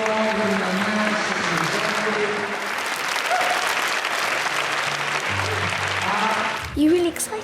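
An audience applauds performers at a school health-education arts show, steady loud clapping over several seconds with a voice speaking over it, then easing off near the end.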